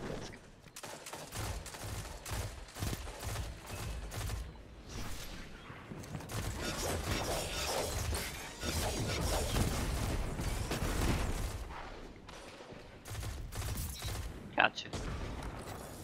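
Rapid bursts of gunfire from Destiny 2 fill the scene, near and loud in clustered volleys with brief pauses and a sharp crack near the end, while voices talk over the shooting.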